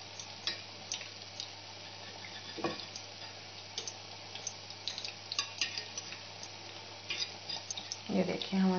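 Dahi bara fritters of besan batter crackle and sizzle in hot oil, with fine ticking pops scattered over a steady low hum, fairly quiet and close throughout.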